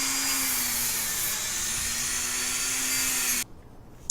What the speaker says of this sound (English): I'm going to go back in with this Dremel. I'm just going to take out the high points here very gently.